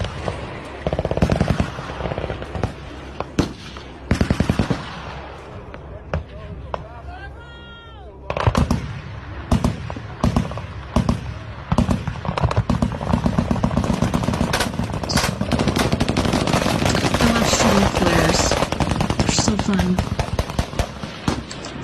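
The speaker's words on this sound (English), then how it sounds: "here we have a UFO being shot at" Rapid bursts of gunfire aimed at an object in the sky, loud and dense, with rattling volleys and single cracks that build into near-continuous shooting.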